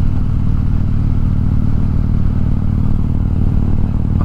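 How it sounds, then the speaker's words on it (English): A motorcycle engine runs loud and close with a steady, low, rumbling drone and constant crackle, with no clear rise or fall in revs. "here's some more motor cackles"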